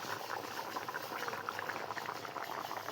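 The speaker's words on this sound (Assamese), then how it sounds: "এই পূৰা উতলি আছে মাংস" Meat curry boils in a pot, a continuous faint bubbling and popping with dense, busy patter and no voices.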